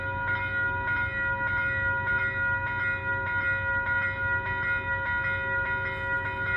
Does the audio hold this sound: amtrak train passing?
yes